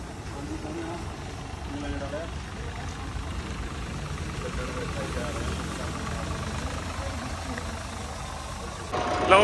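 A Standard 460 tractor engine runs in a steady, low, rumbling drone that holds evenly for the whole stretch, with muffled voices faintly underneath.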